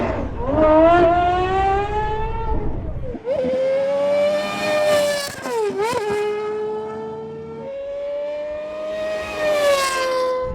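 A Gordon Murray T.50 supercar screams through its gears, the high-revving engine note climbing sharply then dropping with each shift, loud and close.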